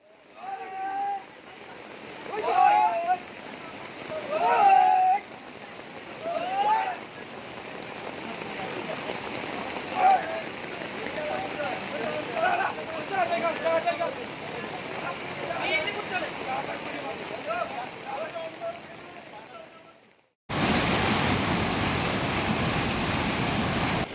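Flash flood water rushing over a road at Karuvarakundu after very heavy rain, with overflowing streams: a continuous loud roaring wash throughout, voices faintly present, and a sudden louder burst of rushing noise at the end.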